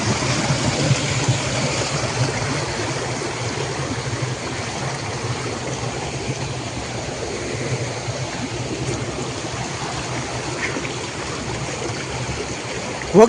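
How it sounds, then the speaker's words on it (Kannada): Water pours steadily over bare rocks in a small stream, a continuous close rushing and splashing wash that stays level and alone from start to finish. "ಆ ಬಂಡೆ ಮೇಲೆ ನೀರು ಬರೋದು"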